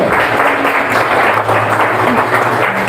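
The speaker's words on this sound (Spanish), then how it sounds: "Denle un fuerte aplauso al Señor." A church congregation applauds loudly in a sanctuary, a thick continuous wash of clapping with a faint sustained musical tone underneath.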